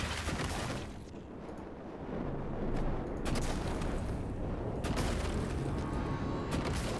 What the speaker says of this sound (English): Sounds like you're correct. They're like just little tiny bombs.